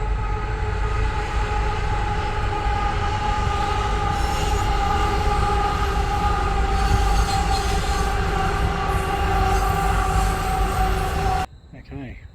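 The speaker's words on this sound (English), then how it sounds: "Comes another train." A train rumbles past nearby under a bridge for several seconds, wheels squealing in a steady metallic whine before cutting off abruptly.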